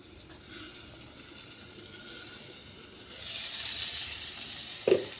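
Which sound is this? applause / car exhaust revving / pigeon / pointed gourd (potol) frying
pointed gourd (potol) frying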